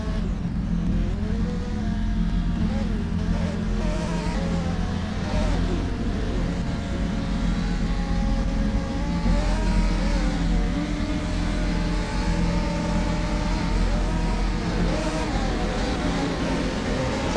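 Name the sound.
race cars starting at Donington in rFactor 2 video game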